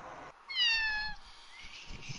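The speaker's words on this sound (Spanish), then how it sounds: "Me cayó la gata." A cat meows once, a clear, loud, drawn-out call that rises then fades, set against quiet room noise during a game livestream.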